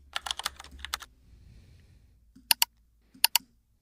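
Typing on a computer keyboard: a quick burst of crisp keystrokes, a short pause with faint noise, then two separate pairs of sharp, close clicks.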